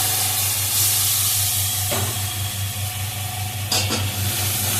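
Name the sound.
spice paste frying in pan for koi fish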